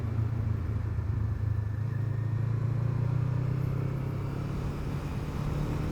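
Motorcycles and other traffic rumble past on a road, a steady low engine drone that swells slightly and holds for several seconds without a clear single pass-by.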